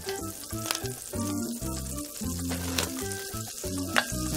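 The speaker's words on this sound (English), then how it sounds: "you're going to add in 1 tablespoon of butter." A tablespoon of butter melts and sizzles in a frying pan for beef stroganoff, giving a steady crackling hiss throughout with a few small pops. Other tonal sounds play underneath, and nobody speaks.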